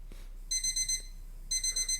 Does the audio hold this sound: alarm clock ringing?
yes